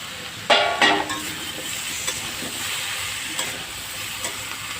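Pointed gourds and pumpkin frying in a pan are stirred, a couple of loud scraping strokes at the start over a constant close sizzle, then lighter clinks as the frying carries on, with no talking.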